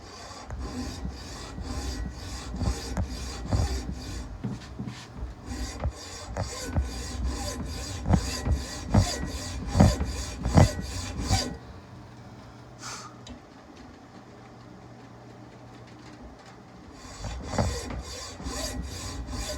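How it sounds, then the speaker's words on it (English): A hand saw cuts depth marks for barrel tenons on a smoothbore barrel, a close steady run of rapid rasping back-and-forth strokes, pausing midway before a few final strokes. "we'll go ahead and do our saw marks to get our depth"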